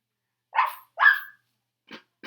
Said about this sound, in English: No, it's the dog.